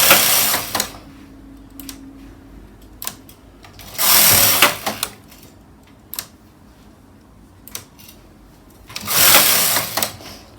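A Silver Reed SK560 knitting machine knits tuck stitch: a loud, close carriage sweeps across the bed in rattling bursts, with softer clicks and needle ticks between passes.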